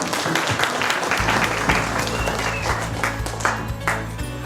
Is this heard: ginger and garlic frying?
no